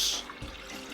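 Raspberry and cranberry juice pouring into a large clear bowl, a brief liquid splash and trickle that starts strong and quickly fades to a soft dribble, fairly quiet and with no talking.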